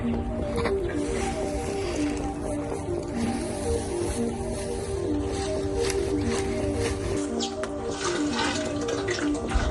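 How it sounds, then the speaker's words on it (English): Rainwater running from a garden tank fed by roof runoff, a steady continuous flow with splashing and trickling texture throughout, fairly close and even in level, with no voices. "So we're getting our water from the water tank that collects rain water."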